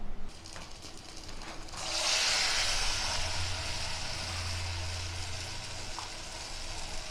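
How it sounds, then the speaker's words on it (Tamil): Susiyam dumplings, sweet balls dipped in batter, drop into hot oil and set off a loud, steady sizzle that begins partway through and keeps going, with no voices. "இப்போ இதை நம்ம எண்ணெயில் சேர்த்துடலாங்க."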